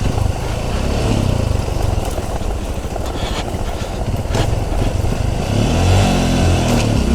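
A faltering motorcycle engine runs continuously up close, its throbbing rumble rising and falling as it revs, loud and steady throughout.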